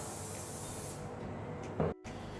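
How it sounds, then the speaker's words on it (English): A soft continuous hiss of canola oil spray onto baking paper for nearly two seconds, ending with a light thump and an abrupt stop. "and then just another light spray of canola oil."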